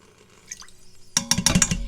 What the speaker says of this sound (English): I am going to add a half a tablespoon of Worcestershire